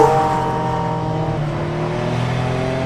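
Tuned F1-engined Porsche 911 engine revving hard nearby, a loud harmonic roar that swells at the start and then holds steady.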